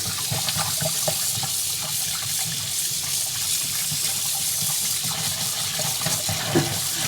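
Kitchen tap water pours through a colander of rinsing rice in the sink, a steady close rushing splash that holds even throughout, with a few small clinks and no voices.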